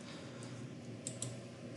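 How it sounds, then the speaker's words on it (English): Fingers tap a computer keyboard in a short, quiet run of light clicks over a low room hum. "We're going to start typing in university."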